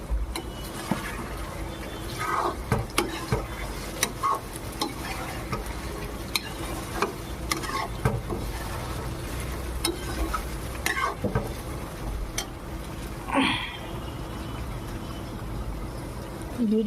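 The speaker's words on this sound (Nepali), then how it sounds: "यो अहिले सिर्फ फ्राई गरुन्जेरी मात्रै हो।" Pieces of chicken fry in oil in a pan while being stirred, with a steady close sizzle broken by repeated sharp scrapes and clicks of the spoon against the pan. No one speaks.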